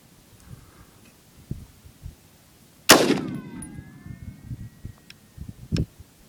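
A single loud, close gunshot from an AR pistol cracks out with a ringing tail, followed by a fainter second shot near the end, set against quiet outdoor background.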